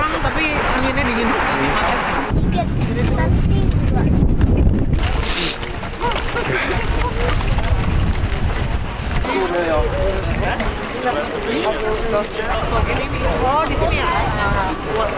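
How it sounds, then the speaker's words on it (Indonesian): Strong cold wind buffets the microphone outdoors at Vienna's Schönbrunn Palace, a loud continuous rumble with gusts that rise and ease, while people talk over it. "Ini anginnya kenceng banget ya."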